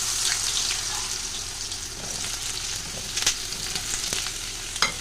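Potatoes drop into hot oil with cumin, dry chili and bay leaf, giving a bright continuous sizzle and hiss, close and fairly steady, with a few faint clinks of a utensil near the end and no speech.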